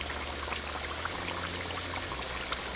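Water poured into a pot of bay leaves, cinnamon and oregano for tortas ahogadas sauce, a steady hissing pour running throughout at moderate level with no talk.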